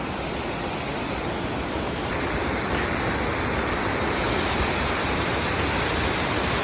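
Water pours in a torrential flow past a marina slip near a bridge, a dense, constant roar that stays steady and loud throughout with no pauses.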